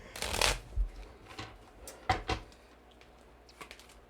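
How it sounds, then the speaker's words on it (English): Playing cards shuffled at a tabletop board game session, a few crisp riffling bursts with short pauses between them, close and fairly quiet with no talk over them. "Shuffle the castle cards and deal a hand face up to each player."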